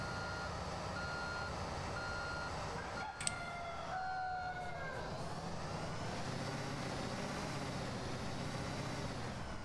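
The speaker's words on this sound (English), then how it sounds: "Bring the following vehicle to its target location. The CT660 flatbed with the crane." A CT660 flatbed crane truck in a construction simulator game gives steady reversing beeps over a continuous engine drone. The beeps run throughout at moderate volume with no voices.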